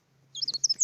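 A sparrow chirping as a sound effect: a quick run of several short, bright tweets, close and clear against near silence.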